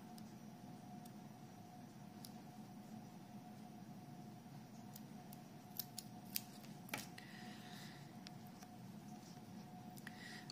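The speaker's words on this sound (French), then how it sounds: "Bon, je vais couper l'excédent de fil." Small scissors snip off leftover knitting yarn in a few quiet, crisp clicks over a steady low room hum, with no voices.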